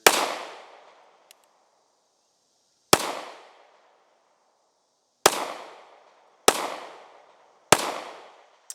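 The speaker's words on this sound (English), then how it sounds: "I held the trigger back and kind of shook it and it fired." An FN FNX-40 pistol fires five sharp, loud shots at irregular intervals of a few seconds, each crack followed by a short decaying echo, with a faint click between the first two.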